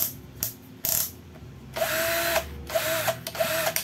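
A Makita impact wrench is switched to its faster speed setting and run in short bursts. Its high motor whine starts and stops several times, with brief gaps and handling clicks in between.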